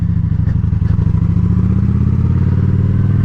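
A motorcycle pulls away after the clutch is let out: a loud, close engine drone that climbs steadily in pitch as it moves off, with no talk.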